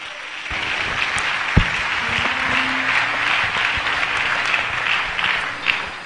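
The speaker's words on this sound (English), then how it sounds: "Clap your hands if you brought it here" A church congregation claps for the servants of God, with an even, sustained patter of many hands filling the hall. A couple of sharper knocks stand out early and late.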